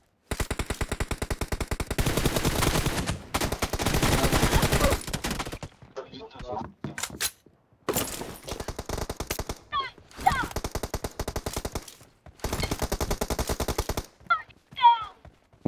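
Rapid automatic gunfire in a video game team deathmatch comes in long loud bursts separated by short gaps, with fainter metallic reloading clicks and rattles between volleys.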